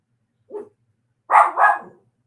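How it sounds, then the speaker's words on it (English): Dogs at a home bark close by: one short bark, a pause, then two louder barks in quick succession, with silence around them. "When my dogs get to barking a lot, you don't ignore them"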